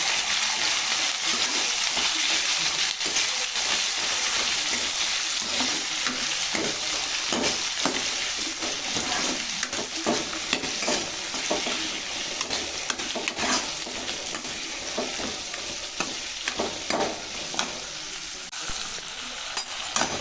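Onion, tomato, coriander and curry leaves frying in hot oil for tomato chutney, a loud continuous sizzle with steady stirring and scraping throughout, no voices.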